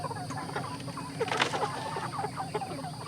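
Pastured farm chickens packed four to a crate cluck softly, several birds making overlapping, irregular calls from close by.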